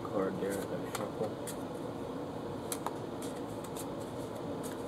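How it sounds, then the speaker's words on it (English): Playing cards are shuffled by hand in several short bursts of papery riffling, close and fairly quiet, over a steady background hum while someone talks. "See how I keep that card there as I shuffle?"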